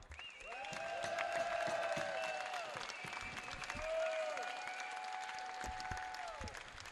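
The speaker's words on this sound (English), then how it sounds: "Fans, let's have a round of applause for Vassar College, the 2024 Division III Men's Volleyball National runner-up." Fans in an arena applaud for Vassar College, runner-up at the 2024 NCAA Division III men's volleyball final, with steady distant clapping under loud ringing arena tones and a brief swell in the middle.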